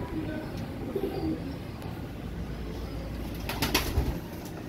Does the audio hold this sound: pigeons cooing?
yes